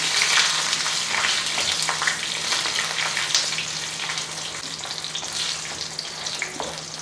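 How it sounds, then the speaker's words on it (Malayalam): Steady, dense sizzling of chillies frying in hot oil, close and continuous with crackling pops, no voices. "എണ്ണ ചൂടായതിന് ശേഷം നമുക്ക് ഈ മുളക് ഒന്ന് വറുത്തെടുക്കാം"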